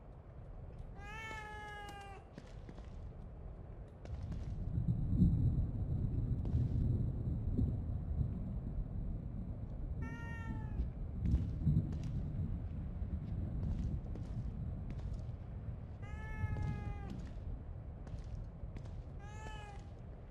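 A cat meows loudly three times at roughly five-second intervals in the horror game The Evil Within 2, each cry clear and close over a low rumbling, droning ambience.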